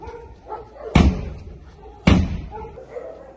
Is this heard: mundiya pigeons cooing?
no